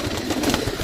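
A pigeon cooing briefly, a soft low burble close by over a dense background.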